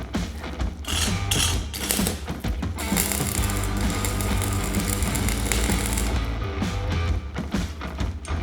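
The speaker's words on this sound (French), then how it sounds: "Je vais souder l'écrou à cette pièce-là." Welding a nut onto a steel part for a homemade motorcycle paddock stand: a dense, continuous crackle and sputter runs loud and close almost throughout, with brief breaks near the start and a short pause before the end.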